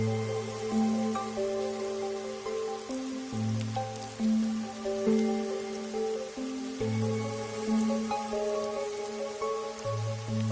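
Steady rain patters and hisses over a city street in the game Raincode, blended with sustained, shifting musical tones. The sound is continuous and moderately loud, with no voices.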